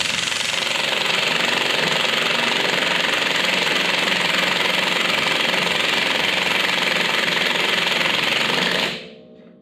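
An air impact wrench on its low setting tightens nuts during a rear axle seal rebuild on an International truck, hammering loudly and steadily for about nine seconds before stopping abruptly.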